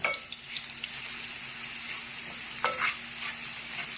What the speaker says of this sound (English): into the oil, I will add the potato